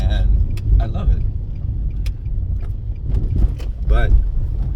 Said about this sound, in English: right now I'm driving a standard car